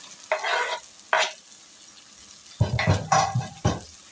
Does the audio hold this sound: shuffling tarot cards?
no